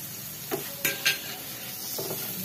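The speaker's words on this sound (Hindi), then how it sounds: "चांगलं फ्राय करून घेऊया यात।" Large paneer pieces fry in a pan with chillies, a soft background sizzle broken by a few sharp clinks and scrapes of a spoon stirring against the metal.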